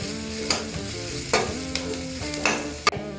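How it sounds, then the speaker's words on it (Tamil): Carrots being sautéed with browned garlic in a pan for drumstick-leaf pasta, with steady soft sizzling broken by a few sharper scrapes of stirring, close and alone. "இப்போ இந்த ஸ்டேஜில் நம்ம கட் பண்ணி வச்சுருக்க கேரட்டை அதோட சேர்த்துக்குவோம். கேரட்டை நல்லா வதக்கிக்கலாம்."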